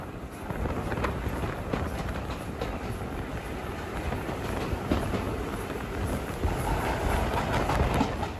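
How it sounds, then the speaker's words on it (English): A steam train on the North Yorkshire Moors Railway rumbles steadily through a station without stopping, clattering wheels and a constant rushing noise, moderately close, with no voices. "NYMR trains don't stop here, passing straight through."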